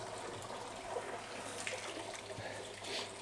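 A section of aquarium sponge filter is pushed into water in a sump container, giving a steady wet sloshing and trickling wash close by, with a few brief splashy bursts and no talking.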